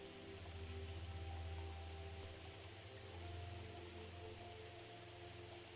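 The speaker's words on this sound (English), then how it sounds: "enjoying the soothing sound of the flow of the water." A forest river flows in a steady, continuous rush of water, soft and even, with a low background hum and no voices.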